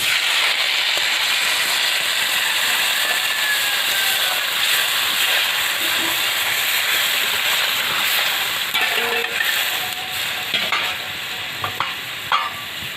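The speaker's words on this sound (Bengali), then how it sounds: "এবার আমি জলটা দেবো। দিয়ে দিচ্ছি।" Water poured into a hot pan of papaya fish curry sets off a loud, sustained sizzle and hiss of steam, easing off and breaking into scattered bubbling pops and clatters toward the end.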